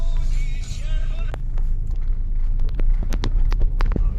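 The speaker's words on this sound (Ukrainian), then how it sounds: "Блін, а тут калюжа, а машина тільки-тільки помита. Ми переїдемо дуже ніжно." A 2008 Skoda Fabia II rolls slowly and gently through a puddle on a town street, with a steady low engine rumble under scattered splashy crackles and ticks of water from the tyres.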